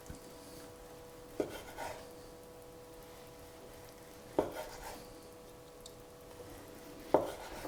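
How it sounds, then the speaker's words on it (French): A kitchen knife cuts a cooked Morteau sausage into rounds for an exotic pot-au-feu, three distinct sharp chops on a board spaced about three seconds apart, close and fairly quiet, with no speech. "On va découper l'amorteau en rondelles."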